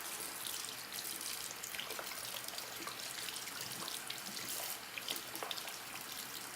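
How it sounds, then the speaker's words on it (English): Tap water runs steadily into a bathroom sink, rinsing a Clarisonic facial cleansing brush, a continuous close hiss and splash with no talking. "I'm just going to rinse that with some water to get all that gunk out of there"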